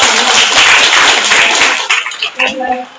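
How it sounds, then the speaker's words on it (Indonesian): A class of students claps hands together in a loud, dense burst that thins into scattered claps, with voices talking over it. "tepuk tangan dulu"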